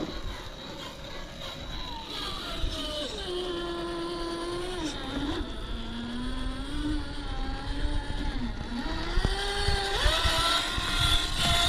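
An Rlaarlo MK-07 RC jeep's electric motor whines at top speed, out of gear. The high tone rises and falls in pitch as the throttle shifts, loud and close over a rough background rush.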